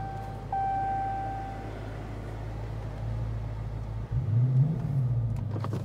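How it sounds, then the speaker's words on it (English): A Dodge Challenger R/T Shaker V8 starts up inside the car: soft warning chimes sound over a quiet hum, then near the end the engine cranks and catches with a short, loud rising roar. "hit that power button, and that V8 engine comes alive"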